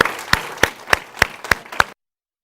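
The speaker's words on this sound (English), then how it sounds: "please join me in a big round of applause for our two guests." An audience applauds for two guests at a talk on supporting girls in Africa, with a few loud, regular claps standing out over a dense bed of clapping before it stops abruptly.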